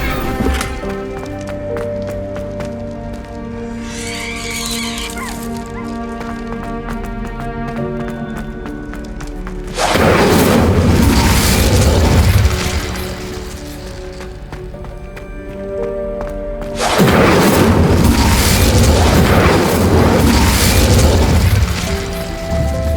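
An Incendio fire spell cast in Hogwarts Legacy gives two long, loud roaring bursts of flame. Each swells and holds for several seconds, separated by a quieter stretch of ambient music and effects.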